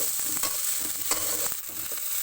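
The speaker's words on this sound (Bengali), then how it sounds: "আদা বাটা জিরা বাটা দিয়ে মশলাটা একটু কষিয়ে নেব" Ground ginger, cumin, garlic and onion paste fries in a pan with a close, steady sizzle, broken by scraping stirs at irregular intervals, with no one talking.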